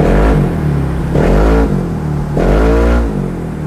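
A Yamaha NMAX scooter engine with a 63 mm ceramic bore-up, revving loudly up close in three rising surges with steady idle between them, alone without talk.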